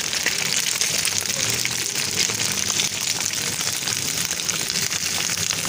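Beaten eggs (cheap imitation eggs) frying in hot oil in a pan, a steady broadband sizzle that runs evenly and fairly loud throughout, with no talking.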